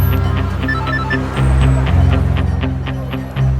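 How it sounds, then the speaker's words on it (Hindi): A phone rings from an unknown number, a steady repeating electronic ringtone pattern with periodic pulses over a low music-like bed, with no talking. "किसका फोन आ रहा है? Unknown number."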